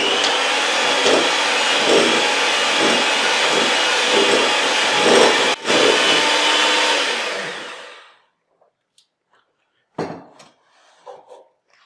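An electric hand mixer beats chocolate cake batter on low speed, a steady whirring drone with slight rhythmic pulsing for about eight seconds before it switches off, followed by a few soft clanks.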